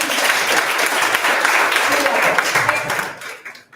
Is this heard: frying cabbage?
no